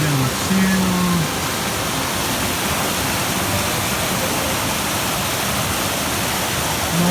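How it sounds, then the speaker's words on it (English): Water rushing down a channel at a hot spring among mossy rocks, a steady, close, loud broadband roar, with a brief voice at the start and end. "Water coming down the channel."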